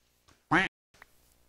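A Minecraft chicken gives a single short, squawky hurt cry as it is hit in the video game, with only quiet game sounds around it.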